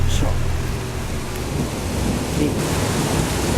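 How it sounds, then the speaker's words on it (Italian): Thunder rumbles heavily over a spring hailstorm in Quartu Sant'Elena, Cagliari, with a constant loud wash of hail and rain pelting nearby surfaces. "Una tempesta di ghiaccio"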